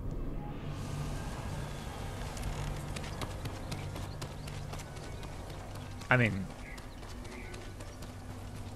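Horse hooves gallop in the video game Ghost of Tsushima, a steady rapid clip-clop rhythm at moderate distance. A voice speaks briefly near the end, and there is a short bump of another sound.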